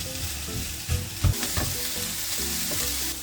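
Mince patties with added onions fry in a pan, giving a loud, continuous sizzle with a few clattering knocks and stirring sounds; no one speaks.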